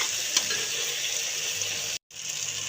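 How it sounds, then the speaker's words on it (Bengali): Spiced masala paste frying with chopped tomatoes added, giving a steady, close broadband sizzle with a faint low hum beneath, cut by a brief silent gap near the end before the sizzling resumes. "টমেটোটা দিয়ে আমি ভালোভাবে কষিয়ে নেব মশলাটা।"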